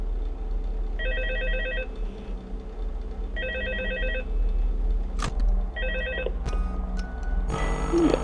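A telephone rings in Five Nights at Freddy's 2, three evenly spaced electronic bell trills over a low background hum, followed by a few sharp clicks and a brief burst of noise.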